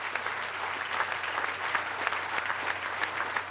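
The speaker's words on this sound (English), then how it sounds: "So give yourselves a great round of applause." At the Silver Line Metro grand opening ceremony, an audience claps steadily and evenly, a continuous mid-level patter of many hands over a faint low hum, with no voices standing out.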